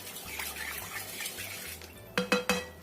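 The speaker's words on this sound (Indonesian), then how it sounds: "Kita aduk sampai tercampur rata" A spoon stirs a no-bake cake batter with a little vanilla in a bowl, soft quiet scraping swirls followed by three sharp clinks of metal against the bowl near the end.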